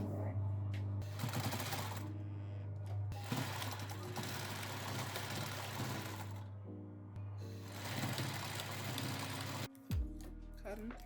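Sewing machine stitching cotton-thread loops onto a thrifted shirt, a steady mechanical whirring and rapid stitching hum in long bursts with brief pauses, close and fairly loud.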